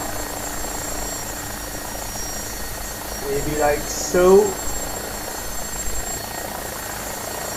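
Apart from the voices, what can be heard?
AgustaWestland AW109SP helicopter hovering over helipad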